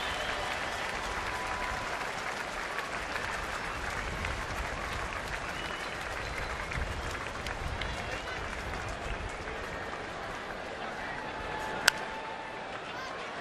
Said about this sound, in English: The customary standing ovation when they leave.